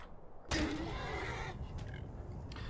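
A horse in the Skyrim video game lets out one loud, close whinny lasting about a second, followed by quieter outdoor ambience.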